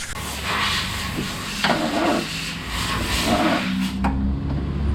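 A Ford car engine fitted with a Weber carburettor runs close by with a rough, throaty idle. It is revved in a couple of short bursts, with no talking.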